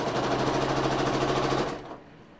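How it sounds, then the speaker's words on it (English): A sewing machine stitches a half log cabin quilt block seam, giving a steady rapid mechanical chatter for under two seconds that then stops abruptly, leaving a quiet tail. "I'm going to go and stitch this one down the right hand side."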